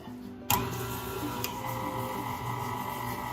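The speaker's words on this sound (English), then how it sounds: "we're mixing it with a beater, not a mixing attachment. I like to use a stand mixer" A stand mixer fitted with a beater starts up abruptly and runs with a steady motor hum while it beats melted butter with white and brown sugar, with a faint rhythmic ticking over the drone.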